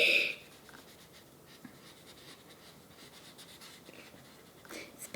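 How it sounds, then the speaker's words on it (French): Markers coloring on paper make soft, continuous scratchy strokes, close and quiet, with a few brief louder rustles at the start and end. "Elle va colorier."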